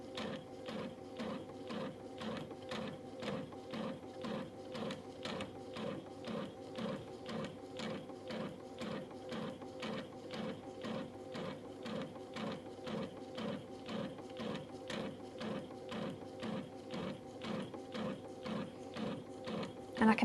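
A Brother sewing machine fitted with a dual feed kit stitches through layered fabric, a fast, even mechanical clatter repeating steadily for about twenty seconds, close and moderately quiet.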